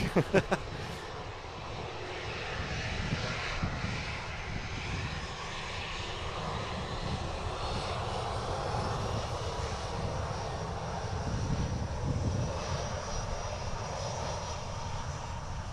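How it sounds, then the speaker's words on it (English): An airliner taxis at Manchester Airport with a loud, continuous engine roar that holds steady and builds slightly, preceded by a few sharp knocks at the start. "Very quick taxi there."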